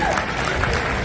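An audience claps loudly at a company anniversary event in a hotel, dense steady applause filling the moment from start to finish.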